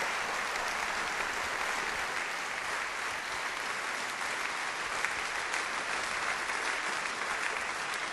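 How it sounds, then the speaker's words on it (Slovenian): Steady applause from the audience at a charity concert, dense and sustained through the whole stretch with no talking over it. "tako je aplavz, seveda."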